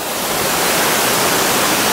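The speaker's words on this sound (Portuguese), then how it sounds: "Cachoeira lá no fundo, muito bonita." Waterfall inside a cave, a steady, dense roar of rushing water filling the space at constant loudness with no break, broad and hissing like heavy spray.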